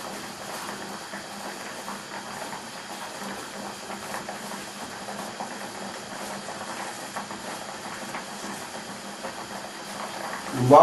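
Potatoes boiling in a pot on a gas hob give a steady, soft bubbling hiss that carries on evenly, closing with a brief louder clatter.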